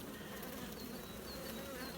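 Honey bees inside a hive hum in a dense, continuous drone, close and steady with no pauses.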